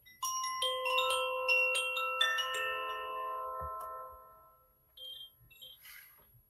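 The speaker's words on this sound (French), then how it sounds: "Vas-y, tu peux lancer le petit carillon." A small chime rings out in a quick descending run of bright, sustained metallic tones that overlap and slowly decay, close and clear, followed by faint soft sounds.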